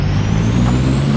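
A bus in the flight-simulation game Airline Commander gives a loud, steady low engine rumble with a faint high hiss running through the whole moment.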